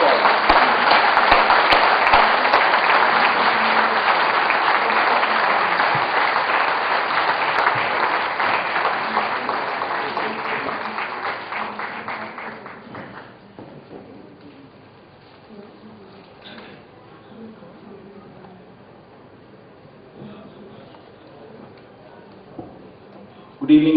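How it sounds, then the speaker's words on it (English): An audience applauds loudly and steadily to welcome Governor Vinod Bansal at a district installation event, the clapping fading out after about thirteen seconds into quieter room sound. "please welcome Governor Vinod Bansal with a round of applause"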